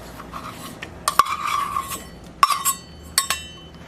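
A metal spoon clinks and scrapes against a pot while sugar is scooped and added for homemade Christmas crack: a few sharp, close clinks with short scraping strokes between them and no talking.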